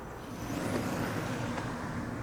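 A BYD Dolphin Surf electric car accelerating hard along a long straight road, giving a steady broadband road and motor rush that swells after a moment and holds loud, with no voices.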